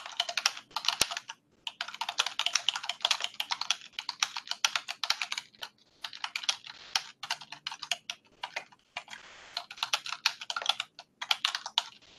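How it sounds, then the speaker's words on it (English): Rapid typing on a computer keyboard during an online conference call, with bursts of close, crisp key clicks, brief pauses between runs and no talking. "You hear someone typing away."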